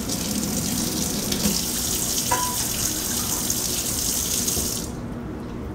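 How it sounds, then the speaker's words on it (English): Water from a kitchen tap runs steadily into a pot for a cup of rice, a loud constant gush that cuts off near the end, leaving quieter room noise. "And I need to put 1 cup of water in this pot."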